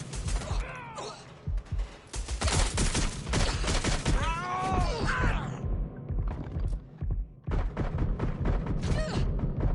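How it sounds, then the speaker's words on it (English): Dense gunfire in the video game Watch Dogs: Legion, with rapid bursts of shots and impacts layered over game effects, loud and nearly continuous throughout. "I'm getting shot at here!"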